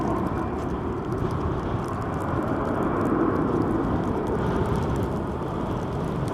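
An Airbus A321 airliner arriving at Helsinki Vantaa Airport makes a steady, broad roar that holds level throughout, a distant jet rumble with no voices over it.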